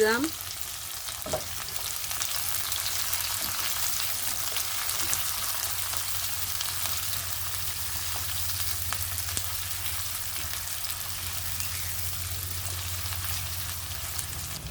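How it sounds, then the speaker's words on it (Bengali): Cumin seeds, bay leaves and chopped onion fry in mustard oil, producing a loud, even hiss of sizzling that holds steady throughout, with a few faint clinks early on and no voices. "সরিষার তেল দিয়ে দিচ্ছি পরিমাণ মতো তো জিরা দিয়ে দিচ্ছি আমি এখানে তেজপাতা দিয়ে দিলাম দুইটা পেঁয়াজ কুচি দিয়ে দিচ্ছি"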